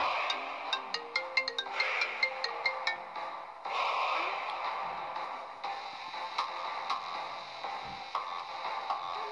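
A song plays back from a phone during an animated countryballs film, with bright plucked, bell-like notes in a quick rhythm at first, then fuller sustained music at moderate loudness.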